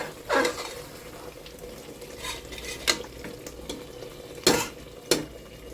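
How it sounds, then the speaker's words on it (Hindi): Mutton for a Lucknowi kundan kaliyan dish being stirred and fried in a pot, with a steady low sizzle broken by several sharp scrapes of the spoon against the metal, close and with no talking. "बराबर हम चला रहे हैं इसको।"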